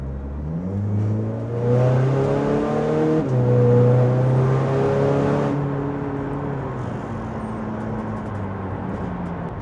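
A stripped-out VW Caddy sleeper build with a 356bhp engine accelerates hard on a wet road, heard from inside the cabin as a loud, steady engine roar that climbs through the revs, eases off, then pulls again.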